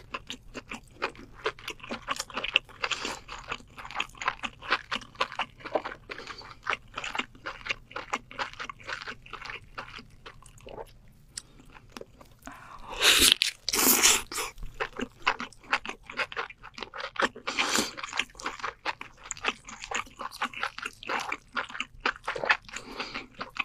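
Close, loud crunching and wet chewing of giant king lobster meat, with rapid bites and crackles repeating steadily and a sharper burst of crunch partway through.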